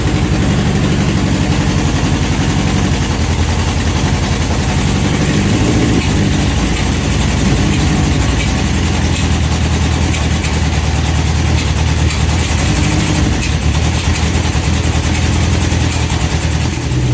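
Honda CB750 classic motorcycle engine idles steadily during carburettor synchronising on a bench with a fan in front, a loud, even mid-pitched running drone with a faint rhythmic pulse, no voices.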